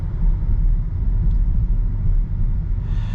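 A 2022 VW Taos front-wheel-drive with an 8-speed automatic driving on the road, a steady low engine and road rumble heard from inside the cabin, continuous and fairly loud.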